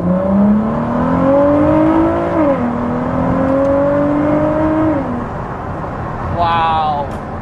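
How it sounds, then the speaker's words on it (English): A Ford GT engine revs and pulls through rising gears, its new Quicksilver Inconel exhaust droning steadily close by, with a brief higher whine near the end. "Bedding in the new exhaust on the GT"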